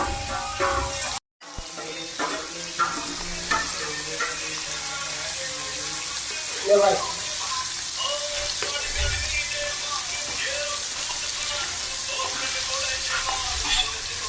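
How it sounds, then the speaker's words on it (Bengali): Fish fries in hot oil in a pan with a steady, loud sizzle and hiss that lasts throughout, cut off by one brief dropout near the start and carrying small pops and clatter within it. "আমি মাছ ভাজা করছি মাছটা এখন উল্টাবো"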